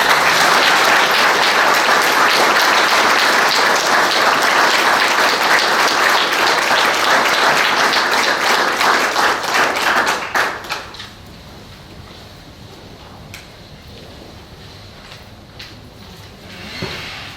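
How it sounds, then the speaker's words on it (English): A council meeting audience gives loud, dense applause for about ten seconds, then the clapping thins out and fades into quiet room tone with a few stray claps. "Join me in giving these folks a round of applause."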